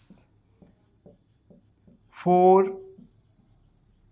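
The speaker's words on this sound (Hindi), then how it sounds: "जैसे हम लिखेंगे" Pen writing out a math solution, soft rhythmic strokes ticking at roughly half-second intervals, close and quiet, briefly interrupted by a single spoken word in the middle.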